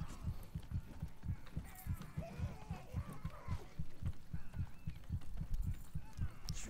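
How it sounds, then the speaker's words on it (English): A steady, rhythmic heartbeat thumps in the Overlord video game, low and repeating about twice a second under a faint game ambience. "That heartbeat's going to really annoy me."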